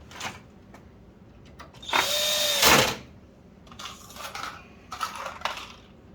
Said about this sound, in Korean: 그러면 나사를 하나 먼저 고정을 하겠습니다